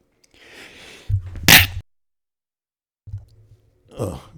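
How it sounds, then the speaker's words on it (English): A single sharp human sneeze up close, with a quick inhale before the burst and a short breathy exhale afterward, heard alone in a quiet room. "Oh, excuse me. I sneezed there."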